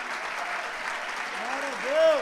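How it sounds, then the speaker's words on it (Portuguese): A Portuguese-speaking church congregation applauds Jesus together during a celebration worship service, a dense burst of clapping with voices mixed in, moderately loud and swelling near the end. "Vamos aplaudir Jesus?"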